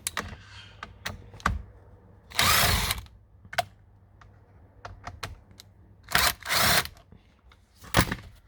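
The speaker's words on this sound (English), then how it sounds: "Get my screw gun." A cordless screw gun undoes bolts on the steering column covers of a Toyota Camry. Two short, loud whirring bursts stand out between scattered clicks and clacks of plastic trim and tools.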